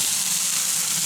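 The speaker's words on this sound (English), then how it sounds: "Burgers are sizzling away and it smells great." Burgers sizzle on a grill in a steady, dense hiss of frying fat that holds evenly loud from start to finish with no voices.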